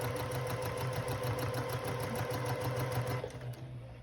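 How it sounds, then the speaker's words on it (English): A sewing machine stitches an apron in a fast, even mechanical whir with rapid needle ticks, running steadily up close before slowing and stopping near the end. "So I'm just going to continue sewing along."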